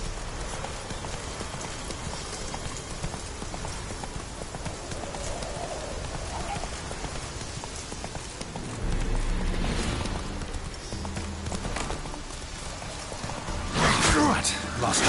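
Hooves of the horse Roach clip-clop steadily in The Witcher 3, a continuous trotting rhythm under game ambience, with a louder burst of movement near the end.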